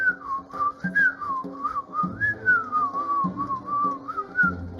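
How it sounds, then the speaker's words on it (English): A goblin character in the Lil' Guardsman video game whistles a happy, wavering tune over soft background music, the melody close and clear, rising and falling continuously for several seconds. "The goblin approaches, whistling a happy tune."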